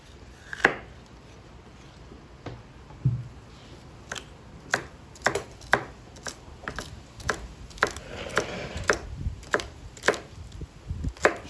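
A knife chops vegetables on a cutting board in sharp, irregular knocks, sparse at first and then quicker and steadier, close and fairly loud against a quiet kitchen background.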